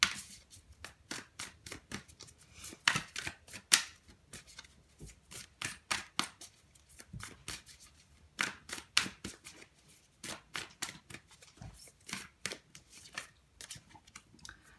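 Oracle advice cards are shuffled by hand in a quiet room, a long run of quick crisp riffling snaps and flutters in uneven bursts, close and clear with no talking.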